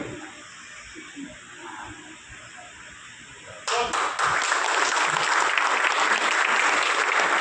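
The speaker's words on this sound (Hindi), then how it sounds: "मैं सभी से आग्रह करूंगा कि सभी जोर से ताली बजा करके स्वागत करें" An audience at an official Rajasthan event breaks into loud applause of welcome after a quiet hiss of room noise, the clapping starting abruptly about halfway and staying dense and steady to the end.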